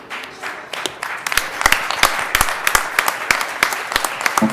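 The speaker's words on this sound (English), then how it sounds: "There, you got a round of applause before you even spoke, Art" An audience at a fisherman panel breaks into a round of applause, dense overlapping hand claps swelling after a quieter start and holding steady and fairly loud throughout.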